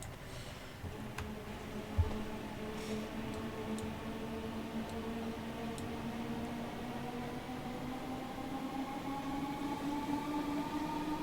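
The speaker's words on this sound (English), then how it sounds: "The motor's coming alive." A Class 313 electric train's traction motors start up in Train Simulator Classic, producing a steady whine that rises gradually in pitch over the rolling rumble of the train, with a few faint clicks and no voices.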